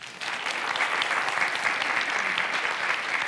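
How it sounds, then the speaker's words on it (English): Audience in a college auditorium clapping for a helper, a sustained even burst of applause from many hands, moderately loud and without speech over it. "Clap for him."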